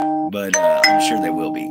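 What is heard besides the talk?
notification bells going off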